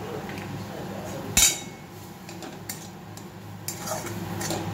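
Green mango being stirred with salt in a pan with a metal utensil, with no water added; a sharp clink of metal on the pan stands out, followed by a few lighter taps and scrapes over quiet background hiss.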